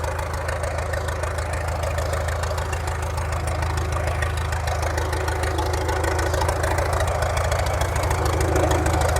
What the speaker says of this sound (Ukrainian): Тракторець той самий, що і в тому році копає нам.